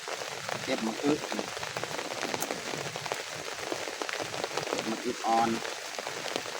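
Steady rain patters on surfaces outdoors on a rural hillside farm, a continuous soft hiss with scattered drips and faint voices beneath.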